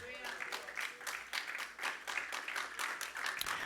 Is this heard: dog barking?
no